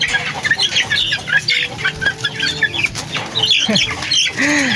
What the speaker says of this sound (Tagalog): Tingnan nyo yung ating mga alagang sisiw, oh.